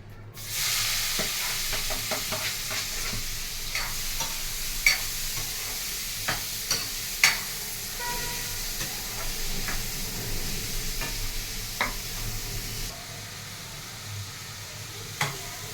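Onions, green chillies and tomatoes frying in oil in a pan, a steady close sizzle running throughout with scattered sharp clicks and taps of a spatula, and no talking.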